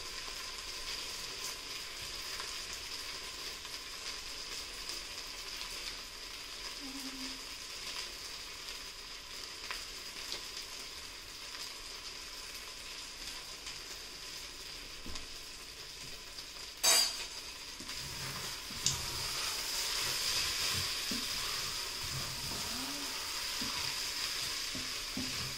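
Sazon seasoning sautés faintly in an Instant Pot during arroz con gandules, giving a low, steady sizzle with soft stirring scrapes. A couple of sharp clinks come near the end.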